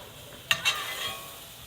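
Salmon fillets in a skillet, cooked for brown sugar crusted salmon, give a quiet, continuous sizzle, with two sharp metallic scrapes or clinks of a utensil against the pan and no talk.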